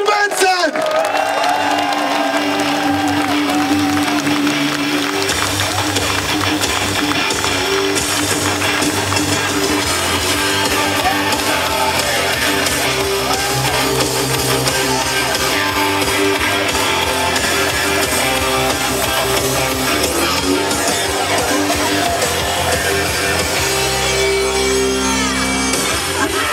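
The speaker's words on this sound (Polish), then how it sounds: "Dajcie mu wielkie brawa." A large crowd at a political rally in Poznań cheers, whoops and applauds in a loud, continuous wall of sound, with shouted voices mixed in throughout.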